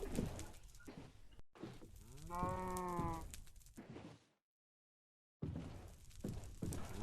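A cow in the Minecraft video game gives a single drawn-out moo over steady game background sound, followed by a short stretch of silence before the background resumes.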